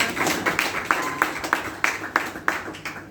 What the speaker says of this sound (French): Applaudissez pour Phytosciences.